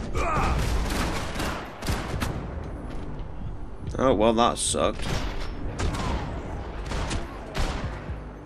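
Bursts of gunfire from the video game Max Payne 3, a rapid cluster of sharp shots in the middle amid game noise, with someone talking over the action.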